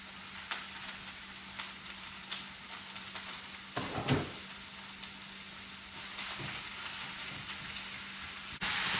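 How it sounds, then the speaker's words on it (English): Onions and carrots sauté in a pan, a soft, continuous sizzle with scattered crackles and a few faint clinks of stirring. "So here is the onions and the carrots. Sauteing it up so it can get caramelized"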